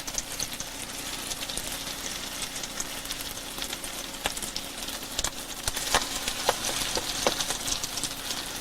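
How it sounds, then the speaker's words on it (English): Food sizzles steadily in a hot pan, a soft continuous hiss dotted with small pops and crackles, fairly quiet and without any voices. "Now it's time to saute. As long as you hear that sizzle,"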